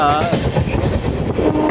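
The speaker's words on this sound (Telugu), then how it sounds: "ఇది మన కాళహస్తి రైల్వే స్టేషన్." Steady rumble and rattle of a train moving through Kalahasti railway station, continuous and fairly loud, with faint voices mixed in.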